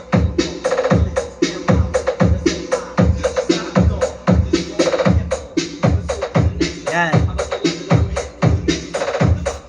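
A revised expandable rokola jukebox speaker, fed straight from a mixer with no processor, plays loud rhythmic music with a punchy, steady beat throughout.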